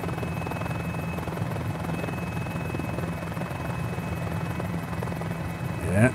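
A Mini-500 light helicopter comes in to land, its engine and rotor producing a steady, close, loud drone with a rhythmic chop and a faint whine, briefly swelling at the very end.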